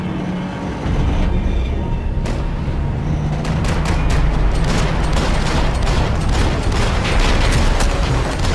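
Dense bursts of rapid gunfire from a Max Payne video game cutscene rattle loud and close, continuous over a heavy rumbling background.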